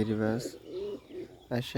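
Low cooing of Rajshahi giribaj pigeons sitting in their loft rumbles up close, broken by a quieter stretch where a voice is heard speaking.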